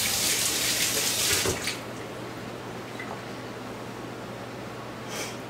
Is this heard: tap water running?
yes